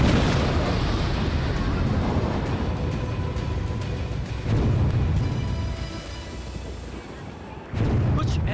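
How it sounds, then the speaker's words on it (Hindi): A demolition blast brings down the Supertech twin tower buildings in Noida, a sustained, heavy, rumbling roar of collapsing structure that fills the scene loudly and continuously, surging again near the end. "कुछ ऐसा ही धमाका होगा"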